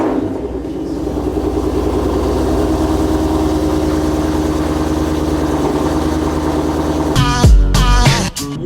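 A car fitted with a new SVE off-road X-pipe exhaust fires up and settles into a loud, deep, throbbing idle, followed near the end by a couple of sharp revs.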